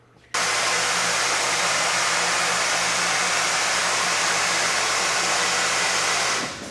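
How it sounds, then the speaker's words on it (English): An automated wet blasting machine integrated into a VH2000 system blasts and rinses parts. A loud, steady rushing hiss starts abruptly, holds evenly for about six seconds, then cuts off. "We can go ahead and actually start blasting."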